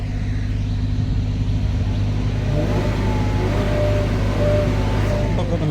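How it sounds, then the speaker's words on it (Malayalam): A flood-damaged car's engine idles with a steady low rumble, then revs up in rising, whining bursts, close by and loud. "നമുക്ക് വണ്ടി ചെറുതായിട്ടൊന്ന് റേസ് കൊടുത്ത് നോക്കാം സൗണ്ട് നോക്കാൻ വേണ്ടിയിട്ട്"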